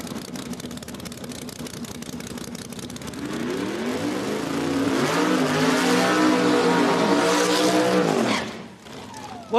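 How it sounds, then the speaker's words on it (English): A Jeff Burns small-block racing engine in a small-tire drag car at Beech Bend Raceway Park rumbles at idle, then revs up hard in a loud rising roar before cutting off sharply. "it had a Jeff Burns racing engine in it, small block"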